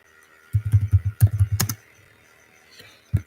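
Typing on a computer keyboard in a terminal, a quick run of thumpy, close keystrokes lasting about a second, then a pause and one last key press, over a low background hum.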